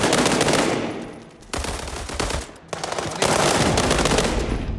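Loud, close automatic gunfire from the PC shooter World War 3, rapid sustained bursts of shots with brief pauses between them and no speech.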